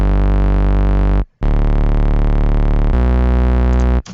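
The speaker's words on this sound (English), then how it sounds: "that makes a marshmallow style bass" Distorted saw bass from FL Studio's Pure Bass plugin, set to dirty retro saw waveforms at about 80 with distortion switched on. It plays three loud sustained buzzing notes with a short gap after the first, with no voice.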